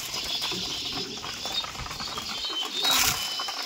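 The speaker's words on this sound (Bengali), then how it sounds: "এই যে ম্যাড্রাসি পায়রা আছে, সমস্ত ম্যাড্রাসি পায়রা এখন বার হচ্ছে" Madrasi pigeons released from a loft flutter and flap their wings in soft, continuous rustling bursts, with a brief louder flurry near the end.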